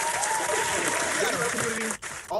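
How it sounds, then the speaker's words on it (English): A crowd applauds continuously at a lively podcast gathering, the clapping dense and steady throughout before a brief dip near the end, with talking mixed underneath. "round of applause right now"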